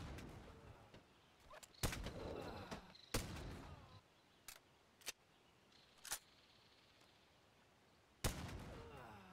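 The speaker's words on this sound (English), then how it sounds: "The rockets create a full physics explosion." Sharp rocket explosions from an RPG-7 mod in the physics game BoneLab, several separate loud bangs at irregular gaps, each cracking out then dropping back to a low rumble, with no talk.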